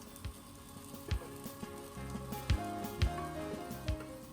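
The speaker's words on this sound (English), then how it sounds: "I'm going to add the prepared sabudana, peanut and the sugar mixture" A sabudana, peanut and sugar mixture sizzles in a hot pan with a steady frying crackle, broken by a few soft, regular thumps as it is stirred.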